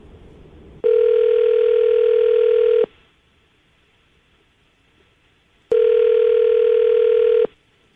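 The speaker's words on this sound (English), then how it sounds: "All right, I'll call it right now." Two long ringback tones of an outgoing phone call, each steady and loud for about two seconds, separated by a quiet pause.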